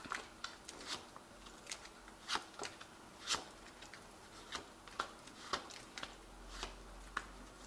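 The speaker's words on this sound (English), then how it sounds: "I have shuffled this deck" A tarot deck is shuffled by hand, producing a quiet series of crisp riffling snaps at irregular intervals, close and soft against near silence.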